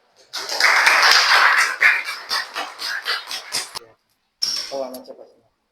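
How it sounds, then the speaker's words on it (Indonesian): Classmates clap in a school classroom during a grade 5 Islamic studies lesson on Qurban: a dense burst of clapping that thins into scattered claps, then stops before a single voice begins speaking. "Tepuk tangan untuk saudara jaga, silakan."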